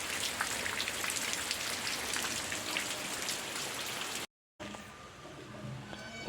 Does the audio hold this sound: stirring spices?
no